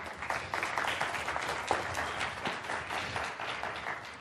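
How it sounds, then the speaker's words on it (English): A large audience applauds after a talk at a professional gathering in Austin, with dense, steady clapping that holds at full strength throughout and no speech over it. "Can we give her a round of applause?"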